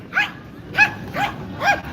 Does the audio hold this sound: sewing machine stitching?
no